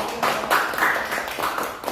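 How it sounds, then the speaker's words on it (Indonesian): Students clap together in a classroom, a short burst of fairly steady group clapping lasting a couple of seconds, close and moderately loud with no talk over it. "tepuk tangan dong"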